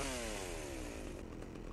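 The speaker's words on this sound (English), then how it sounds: "Use the old chainsaw, right?" A chainsaw revs loudly in GTA Vice City Definitive Edition at a mall, its engine whine sliding downward and then settling into a steady buzzing drone, close and alone without talk.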